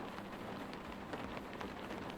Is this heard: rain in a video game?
yes